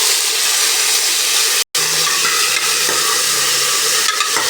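Potatoes and eggplant frying in a pan with onions for a sprouted horse gram sambar, a steady close sizzle with stirring, broken by one brief silent gap before the hiss resumes.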